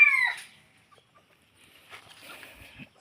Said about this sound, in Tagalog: Tumitilaok na rin to.